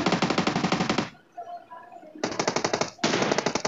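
Bursts of rapid automatic gunfire in PUBG Mobile, two long volleys separated by a brief lull with faint background sounds, loud and close.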